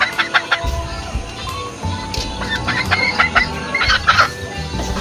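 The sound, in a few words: young gamecock stag crowing and clucking in backyard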